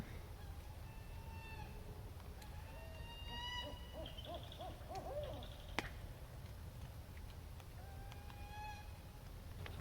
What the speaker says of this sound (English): something else squawking like this. I'm not sure if it's maybe a owl doing a mating call